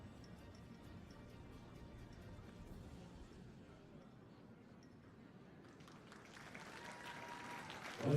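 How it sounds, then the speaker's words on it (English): Crowd applause at an FEI dressage arena after a six-year-old horse's test, a steady mid-distance wash of clapping that thins slightly midway, then swells and grows louder toward the end. "Certainly is deserving of a round of applause"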